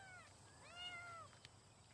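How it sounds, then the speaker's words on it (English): A cat meows in a few drawn-out, rising and falling calls heard at close range in a quiet indoor setting, followed by a brief soft knock. "Is that a cat in there?"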